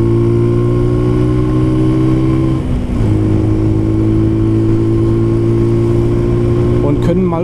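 A Brixton Cromwell motorcycle turns around on a ride, its steady engine drone dipping briefly as it slows and then settling again, with wind noise throughout.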